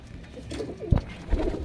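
A female Teddy pigeon gives a low, soft coo, then a second brief coo, close by in a quiet setting.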